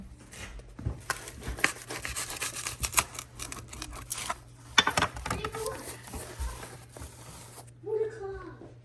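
A knife cuts open a freshly baked pizza turnover made in a GMG pizza oven. Repeated crisp, crunchy scraping and crackling bursts sound close up, then settle into quieter slicing toward the end.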